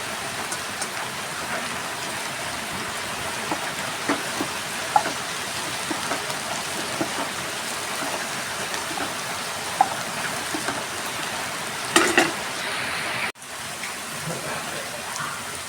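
Chopped taro stems and leaves cook in a pan with an even, rain-like hiss and light crackling that runs steadily throughout, with small pops here and there.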